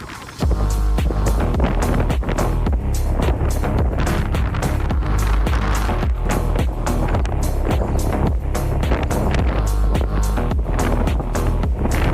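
Strong wind buffets the microphone aboard a ship at sea on the way to Norway, a loud continuous roar with rapid gusting thumps throughout.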